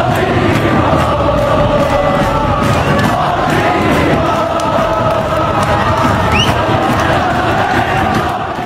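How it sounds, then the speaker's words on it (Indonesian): Persib football supporters (bobotoh) in a stadium roar and chant together in a loud, sustained crowd sound that never lets up. "Para bobotoh berdiri, meneriakkan namanya dengan dada bergetar penuh kebanggaan."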